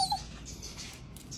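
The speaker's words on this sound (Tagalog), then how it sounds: "Siya po ay naglalaro yung aso namin." Pet dog named Bona whimpering during play, a couple of brief high squeaky whines at the start, then faint rustling and quiet.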